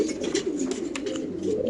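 Racing pigeons at a pigeon farm coo in soft, continuous, overlapping murmurs, close by and moderately loud, with no talking.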